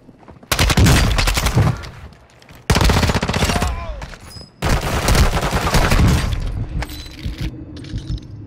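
Automatic gunfire in Call of Duty: MWII, three long, loud sustained bursts of rapid shots separated by brief pauses, with a lighter trailing rattle at the end.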